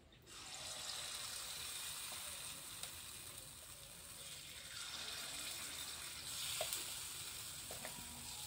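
Mango paniyaram batter fries in a little oil and ghee in a paniyaram pan, giving a soft, continuous hiss and sizzle that stays steady throughout and is faint and close, with no talk.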